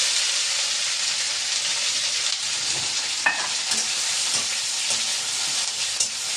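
Okra with fenugreek seeds and chillies stir-fries over a high flame, a loud unbroken close-up sizzle broken by a few scraping stirs and light clacks.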